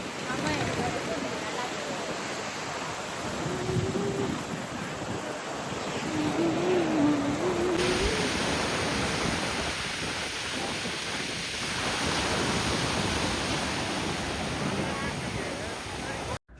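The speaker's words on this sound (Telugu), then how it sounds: "చూసారా అసలు వాటర్ ఎలా సౌండ్ ఉందో" Ocean waves on Chirala beach make a steady, broad roar of surf that continues throughout, with faint voices and a brief vocal sound in the background.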